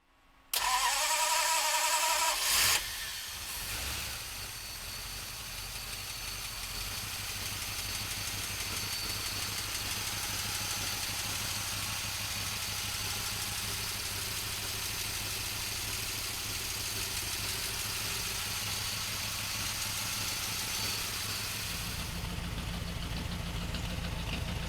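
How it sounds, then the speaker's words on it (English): A 1951 Mercury flathead engine cranks over briefly, catches, and then settles into a steady, loud idle that holds without a break. "let's fire this flathead up for you right now"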